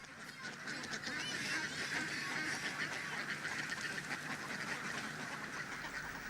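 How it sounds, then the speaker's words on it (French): A crowd of free-range ducks on a farm pond quacks and honks continuously, a dense overlapping chorus heard at moderate distance with no talking. "La population de canards qui peut s'ébattre en liberté sur l'étang"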